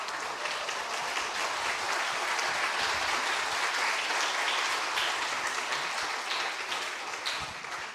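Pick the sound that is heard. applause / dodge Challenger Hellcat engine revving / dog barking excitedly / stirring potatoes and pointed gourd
applause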